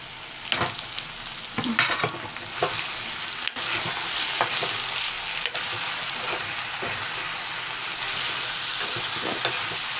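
Tomato, chilli and garlic sizzle steadily in hot oil for a local-style chicken curry while a spoon scrapes and stirs the pan in occasional knocks, close and continuous without speech.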